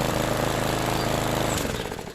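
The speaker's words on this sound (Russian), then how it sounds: "Закачиваем бензин при помощи праймера и заводим двигатель." A petrol lawn mower engine, just repaired and primed, runs loud and steady with a dense, continuous mechanical rumble, then begins to drop off slightly near the end.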